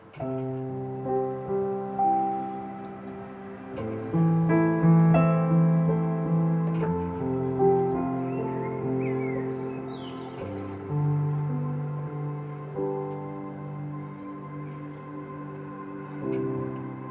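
A piano melody rises and falls in volume, starting softly, swelling in the middle, then easing back, with lingering sustained notes and expressive phrasing.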